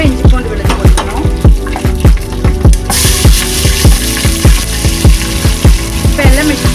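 Ginger and garlic drop into hot oil for a Kerala-style mandhi biryani, a broad sizzle rising abruptly partway through and continuing under loud, rhythmic background music.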